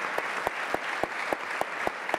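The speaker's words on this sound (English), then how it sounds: "Maybe you give the whole panel one more round of applause before we relieve them." Steady round of audience applause for a conference panel on social protection, a dense wash of clapping with regular louder claps standing out, sustained and fairly close throughout with no talking.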